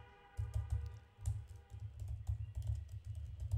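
Keyboard typing on a computer, a steady run of close, crisp keystrokes with short pauses, set over a low background hum, with no voices.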